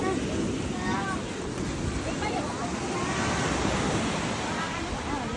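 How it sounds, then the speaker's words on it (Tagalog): Rough ocean surf at Patitinan white beach in Sagñay, Camarines Sur, rushes steadily with gusting wind noise on the microphone, while people talk faintly nearby. "Maalon, grabing alon."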